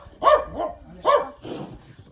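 A dog barking close by outdoors, with three loud barks spaced about a second apart, the last one softer and rougher.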